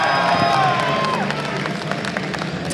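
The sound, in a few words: rowdy esports tournament crowd cheering in New York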